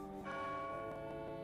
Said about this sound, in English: at noon on the day of the festival, the church bell tolled.